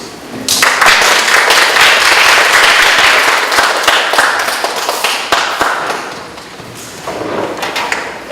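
An audience at a Catholic healing retreat claps to welcome a speaker, a loud close burst of many hands that holds steady for several seconds and then thins toward the end.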